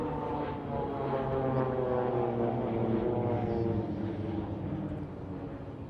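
Two propeller display aircraft at an air show sweep past in an opposition pass, a loud sustained droning engine roar that swells and then eases slightly as they cross.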